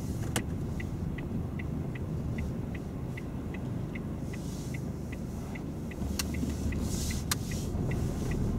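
A car engine hums steadily at low pitch as the vehicle drives slowly out of a car park, with faint regular ticking like an indicator and a couple of sharp clicks.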